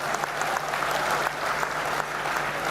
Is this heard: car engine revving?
no